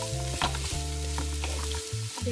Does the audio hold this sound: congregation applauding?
no